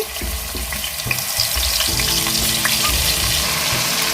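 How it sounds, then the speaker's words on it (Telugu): Onion paste made from three onions fries steadily in hot oil for a Godavari-style fish curry, a dense continuous sizzle with occasional stirring scrapes, close and loud throughout with no talking. "ఉల్లిపాయ వేగే వరకు వేయించుకున్నామండి కొంచెం మంచిగా వచ్చే వరకు వేయించుకున్నాము"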